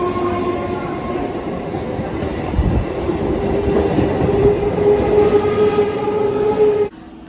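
Local train at Jadavpur railway station, a steady loud rumble of carriages rolling past with rail clatter throughout, cutting off abruptly near the end.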